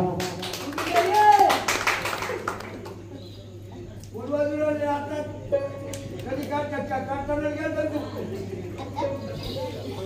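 Hands clap along to a bhajan during a comic jagran gondhal folk performance. Sharp rhythmic claps come mostly at the start, and singing and talking voices follow.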